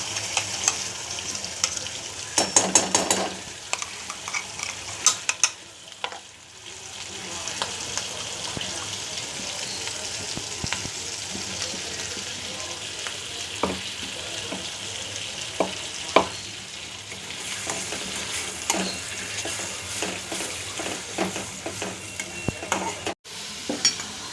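Pav bhaji masala fries in butter in a pan, a continuous sizzle with scraping and clinking as a spoon stirs it steadily, close and fairly loud throughout.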